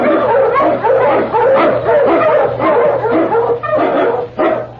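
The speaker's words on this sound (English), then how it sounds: "The Wonder Dog King, swiftest and strongest of Eskimo lead dogs, blazes the trail" A sled dog barks repeatedly and energetically, a quick series of loud, close barks and yips over a low steady hum, in an old radio drama set in the snowy Yukon.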